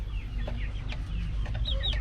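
A flock of large free-range chickens, including Peruvian birds, clucks and chirps steadily against a constant low rumble, with several birds calling at once from close by.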